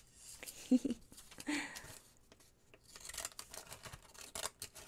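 Scissors trim the folded top edge of a paper greeting card for a junk journal, giving a few close crisp snips followed by softer rustling and scraping of the card.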